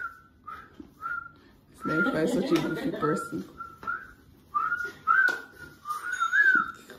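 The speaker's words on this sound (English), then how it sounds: "Why are you whistling though?" A person whistles a series of short, clear tones, one long warbling run near the end, with someone speaking in between.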